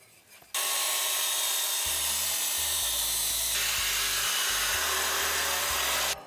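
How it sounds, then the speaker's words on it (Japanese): A metal part is welded in place, a loud, steady rushing hiss that starts abruptly, holds for about six seconds and cuts off sharply, with low tonal background music beneath it. "でもこれだけで不安なんで、ここをちょっと溶接します。"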